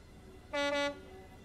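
A diesel locomotive horn in Train Simulator 2020 blares twice in quick succession, two short loud toots with a tiny gap, over faint background rumble.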